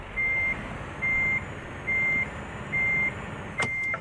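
Reversing beeps from a truck in the Euro Truck Simulator 2 video game: five evenly spaced, steady electronic tones over a low engine rumble, with a brief click near the end.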